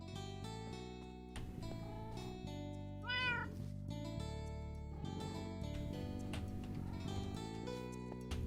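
A cat meows in the Minecraft video game, a short call near the middle set against steady, loud in-game background music that carries through the whole stretch.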